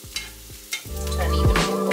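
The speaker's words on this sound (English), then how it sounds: "After you fry them until that they're golden brown, you put the broccoli in." Onions and broccoli frying together in a pan, a steady close sizzle with a few sharp clatters and scraping stirs at the start, with no one speaking.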